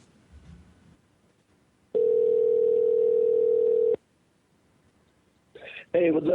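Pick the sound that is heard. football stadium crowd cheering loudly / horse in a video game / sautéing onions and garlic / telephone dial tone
telephone dial tone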